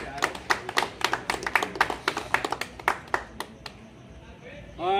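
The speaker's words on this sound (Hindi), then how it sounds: "जोरदार तालियों की गड़गड़ाहट से स्वागत करें।" Clapping rises at a temple devotional gathering with a 56-bhog and blanket offering, sharp, fairly close claps in a quick uneven run that thins out and stops, followed by a voice speaking.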